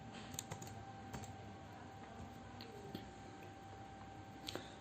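Quiet, sparse keystrokes on a computer keyboard while entering text into a spreadsheet, a few soft clicks scattered over a faint electrical hum.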